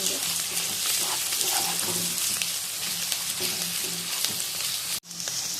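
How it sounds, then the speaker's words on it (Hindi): Ginger garlic paste fries with golden onions in a pan, giving a steady, close sizzle with light stirring scrapes throughout. A brief clatter cuts in near the end. "अब हम इसमें 1 टेबलस्पून अदरक लहसुन का पेस्ट ऐड करेंगे और इसकी स्मेल खत्म होने तक इसे भी भून लेंगे।"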